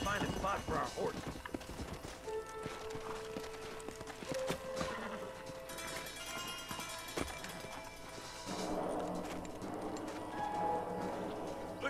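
Several horses clip-clop along in Red Dead Redemption, hooves thudding in an uneven nearby rhythm that slows and fades, with game characters talking over the hoofbeats.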